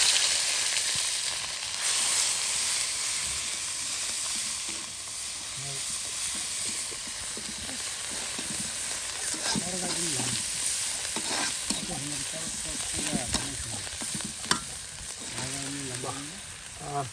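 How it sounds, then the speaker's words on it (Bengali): Potatoes, onions, ground spices and a paste of onion, garlic, cumin and ginger fry together in a pan outdoors in a village kitchen, giving a steady sizzle with scraping stirs throughout. A voice murmurs faintly in places. "এটাকে এখন বেশ মশলার সাথে সুন্দর করে কিন্তু কষানো হবে"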